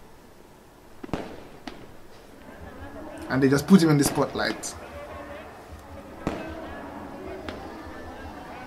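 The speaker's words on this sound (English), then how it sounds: "Look at the firework from above." Fireworks go off at a festival, seen from above, giving a few sharp cracks and a dense cluster of bangs in the middle, with a voice talking over them.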